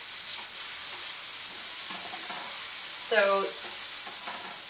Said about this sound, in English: Okay, so they're cooking away nicely. So turn them over.